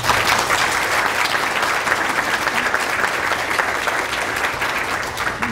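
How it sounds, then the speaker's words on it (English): A conference audience claps for the speakers in a dense, steady round of applause that holds loud and even from start to finish. "I'd like to give them a round of applause."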